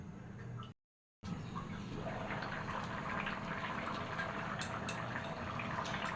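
Red lentil dal simmers in a pot with a low, steady bubbling and watery churn, quiet and close. The sound briefly cuts out near the start, and a few light taps follow later.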